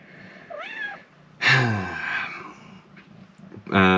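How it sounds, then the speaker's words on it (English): Small stray kitten meowing in a few distinct calls, a short rising mew, then a longer loud cry and a final sharp meow, close to the microphone against a quiet background with no talking. "We have found a little stray kitten who seems to be very, very friendly"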